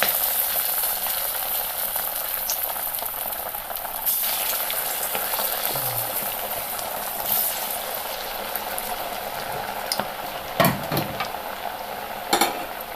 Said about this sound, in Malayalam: അങ്ങനെ ചൂടായി തീ കുറച്ചിട്ടിരിക്കുന്ന എണ്ണയിലേക്ക് നമുക്ക് ഈ പരിപ്പ് വട ഇട്ട് കൊടുക്കാം.